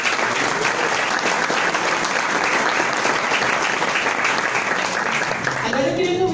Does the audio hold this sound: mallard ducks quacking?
no